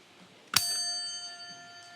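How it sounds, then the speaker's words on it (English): A pub quiz show bell strikes once with a bright, clear ding that rings on and slowly fades over the next second and a half in an otherwise quiet room. "wait for the bell, please."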